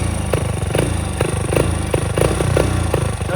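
A small dirt bike that was recovered after sinking runs loud and close and fails to rev up properly when given throttle, its uneven, sputtering engine note pulsing irregularly without climbing in pitch.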